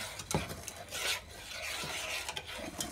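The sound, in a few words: stirring brown sugar mixture with a spoon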